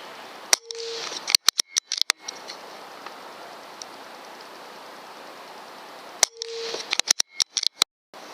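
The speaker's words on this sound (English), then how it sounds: "These next 5 rounds are going to be the Air Arms Diabolo Field 16 grains." Air rifle fires Air Arms Diabolo Field 16 grain pellets at a bullseye target: two sharp near shots about six seconds apart, each followed by a quick cluster of ticking clicks as the gun is handled, with quiet between.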